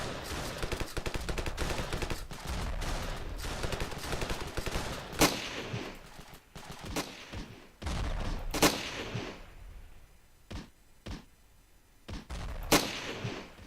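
Gunfire in the video game Ravenfield: rapid automatic bursts followed by sharp single cracks and scattered shots, loud and close, with short quiet gaps between the later blasts.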